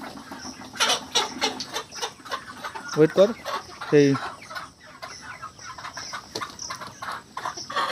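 Many chickens cluck and squawk at a wholesale poultry seller's stall, a busy, close flock noise with a few loud squawks near the middle while people talk over it.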